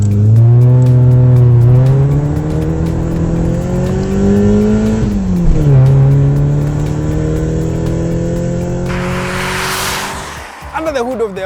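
An Audi A4 sedan with a manual gearbox accelerating hard, the engine note climbing loud and close through rising revs with a gear change partway, then a burst of hiss as it eases off.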